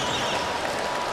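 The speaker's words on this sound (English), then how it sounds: "China team still up cheering for their team." Spectators at a China vs USA game cheer and clap in a brief, loud burst of crowd noise that holds steady for about a second.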